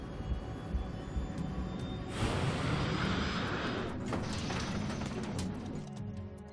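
Airliner jet engines roar steadily during takeoff, a dense continuous rumble that swells noticeably partway through and holds at a loud, sustained level.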